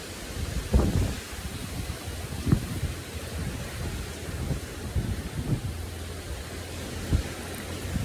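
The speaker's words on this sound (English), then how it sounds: "This is what it's talking about when it says the wind comes sweeping down the plains." Strong wind blowing outdoors across the Oklahoma plains, a loud steady roar buffeting the microphone with occasional heavier low gusts, no voices.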